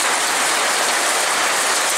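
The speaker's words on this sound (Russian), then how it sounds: "Там град идет, представляете, я снимала, уже вот дождь" Heavy rain mixed with hail pours down in a loud, dense, continuous hiss during a June downpour, with no voices over it.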